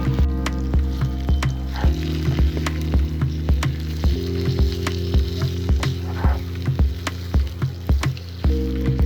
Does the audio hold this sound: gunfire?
no